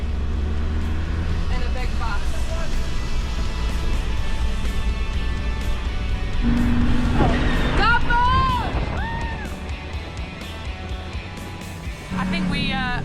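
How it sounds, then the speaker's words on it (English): A big bus travels in the Tour du Rwanda cycling race convoy, its engine and road noise rumbling steadily throughout, with a busy street din of voices and passing traffic around it. "So we're in the convoy in a big bus."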